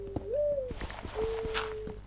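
A bird calls in the game Minecraft, a soft hooting, cooing tone held twice, with scattered clicks and taps around it and no talk.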